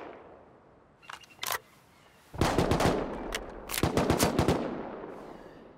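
Gunfire in the survival game Rust: two brief early shots, then loud rapid bursts of automatic fire in two clusters, sharp and close, with no talking over it.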